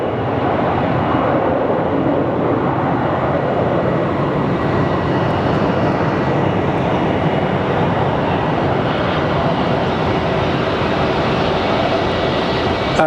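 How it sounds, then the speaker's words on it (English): Airbus A350 airliner at Phoenix Sky Harbor airport, a loud, steady broadband engine roar that holds constant for the whole stretch, with no talk over it. "there's our big A350"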